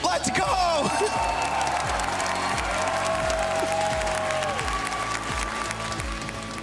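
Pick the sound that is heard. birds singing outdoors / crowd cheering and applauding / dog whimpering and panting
crowd cheering and applauding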